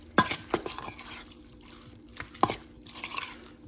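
Seasoned raw shrimp get tossed in a bowl for shrimp tacos, with several wet slaps, clinks and scraping knocks in irregular bursts, close and fairly loud, quiet gaps between.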